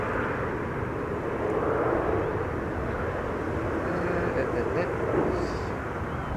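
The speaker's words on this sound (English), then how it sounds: "Okay, then flight 1772. Arriving from Berlin, 1 hour 7 minutes underway." A year-old PH-NXP airliner on flight 1772 from Berlin landing on Schiphol's Buitenveldertbaan runway 27, a steady loud jet roar heard from outside, with no talk.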